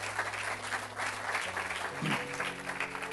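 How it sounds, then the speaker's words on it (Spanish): A church congregation claps steadily throughout, a dense continuous applause with music or a held tone underneath. "Demos un aplauso al Señor"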